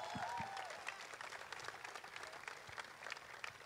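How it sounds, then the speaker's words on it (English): An audience at an Amazon Prime Video event applauds a team, a soft, fairly distant wash of clapping with a few brief voices rising over it. "a big round of applause for this team here"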